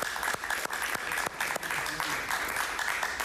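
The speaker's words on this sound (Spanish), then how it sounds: "Yo pido un aplauso para él." An audience on a Spanish-language political talk show applauds a politician, a dense run of clapping with occasional sharp louder claps, steady and moderately loud throughout.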